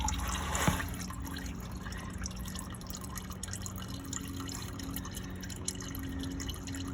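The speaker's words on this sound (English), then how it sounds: "I loosened it up, and it's gonna be dripping oil." Motor oil drips and trickles from a loosened oil filter on an Infiniti G35 during an oil change, a faint liquid patter that continues steadily in a quiet garage.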